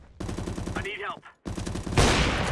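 Gunfire in Counter-Strike: Global Offensive on the de_elysium map, rapid rattling bursts of automatic fire, a short break, then more shots ending in a louder, noisy blast, all close and loud.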